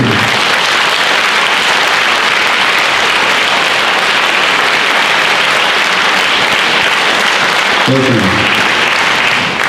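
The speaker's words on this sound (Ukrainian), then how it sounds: "Прошу наші аплодисменти." Sustained loud applause from a concert audience in a Lviv hall, dense and steady clapping throughout with no break.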